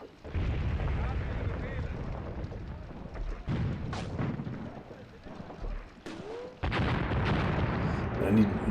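Artillery shells from an infantry support gun in the war game Graviteam Tactics, several distant booms and blasts going off at uneven intervals, with someone talking over the battle noise.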